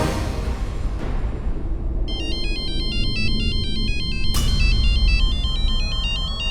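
A mobile phone ringtone for an incoming call chimes in a repeating melodic electronic pattern after about two seconds of low background noise, loud and close, with no voices.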